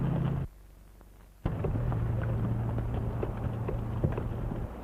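Hooves clop steadily in a loose trotting rhythm over a low rumble, after a brief drop in sound near the start.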